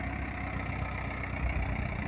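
A low, even diesel idle from an 855 tractor, steady chugging throb close by with a slight knock, heard alone.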